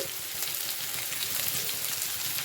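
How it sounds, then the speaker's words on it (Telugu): Chopped ivy gourd frying in an oiled pan while being stirred slowly, giving a steady, close, dense sizzle with light scraping throughout. "మంచిగా చక్కగా కలుపుకుంటూ ఉండాలండి స్లోగా కలుపుతూనే ఉండాలి"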